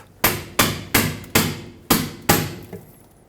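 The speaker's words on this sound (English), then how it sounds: "Take a pry bar and a hammer, pop the bottom off." Six sharp metallic hammer strikes on a pry bar land in a steady rhythm, close and loud, popping off a Ford Ranger rear differential cover, followed by a fainter tap at the end.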